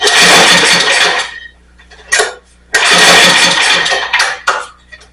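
A small pull-start engine on a rear-engine Snapper lawn mower sputters loudly to life, cuts out briefly, then restarts with a rough, steady roar before faltering again, heard up close.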